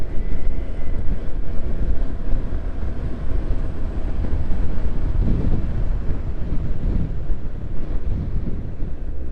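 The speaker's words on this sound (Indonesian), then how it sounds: "Anginnya kenceng bener." Strong wind buffets the microphone while riding a motorcycle along a coastal highway, a loud, continuous low roar with no break and no voices.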